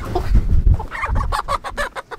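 Chickens cluck in a rapid, rhythmic series of close, loud calls, with low rustling and bumping underneath.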